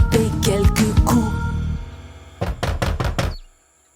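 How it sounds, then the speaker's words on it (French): Cartoon wolf knocking on the youngest little pig's door in a children's animated story: a group of heavy wooden knocks, then after a pause a second burst of about five loud, evenly spaced raps, with a music-like background fading out. "le grand méchant loup à la porte du plus jeune vint frapper quelques coups"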